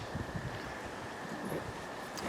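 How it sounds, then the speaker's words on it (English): Wind blows steadily outdoors at night through trees, a continuous broadband rush with low gusty rumble and faint rustling, no voices. "Wind is really picking up."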